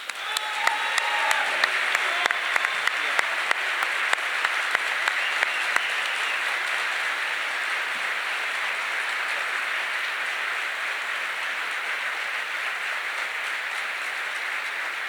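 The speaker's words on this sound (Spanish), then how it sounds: "otro aplauso para Agustín" Sustained audience applause at a book fair presentation, broad steady crowd clapping with sharp individual claps standing out early, continuing evenly throughout.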